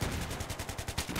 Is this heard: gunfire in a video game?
yes